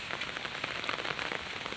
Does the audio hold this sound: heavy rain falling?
yes